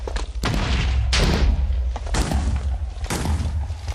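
TNT blasts in an animation go off one after another, a string of booming thuds and crackling bursts that repeat close and loud with short gaps between them.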